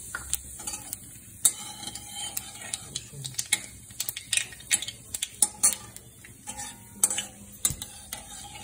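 Nigella seeds frying in hot oil, a light sizzle broken by rapid pops, ticks and utensil scrapes, close and fairly quiet.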